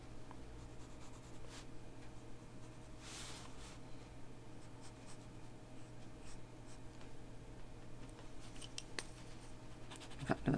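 A pen or pencil drawing a pot on paper, soft close scratching and scribbling strokes at a quiet level, steady for several seconds with occasional sharper ticks.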